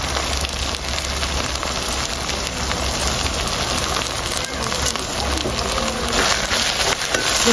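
Prawns with tomato and chopped green chillies fry in a pan, a loud, dense, continuous sizzle with crackling spatters and no talk.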